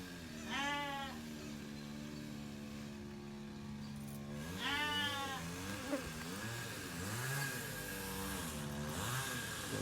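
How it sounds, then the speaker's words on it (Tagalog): A goat bleats close by in several wavering, quavering calls, with a chainsaw droning steadily in the background of a farm pen. "may bagong anak ang ating kambing"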